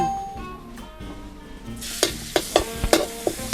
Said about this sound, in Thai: ใส่น้ำมันพืชลงไปนะลูกไม่ต้องใส่เยอะ ใส่แค่นี้พอของมัน จากนั้นใส่กระเทียม